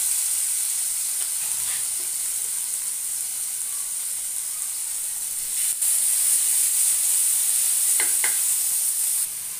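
Meat pieces frying in hot oil, added a few at a time: a loud, continuous sizzling hiss that swells briefly as each new batch goes in, with a few faint clicks.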